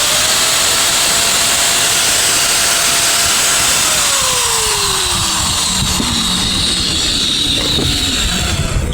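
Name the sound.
repaired INGCO 750 watt grinder running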